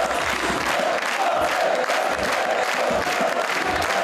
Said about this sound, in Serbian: Ovacijama su dočekali svog ljubimca Nenada Lalatovića navijači Vojvodine